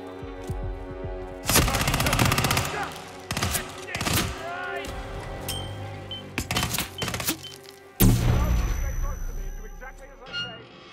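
Rapid gunfire bursts and single shots in the video game Hitman 3, loud and sharp, recurring in several volleys amid game sounds and voices.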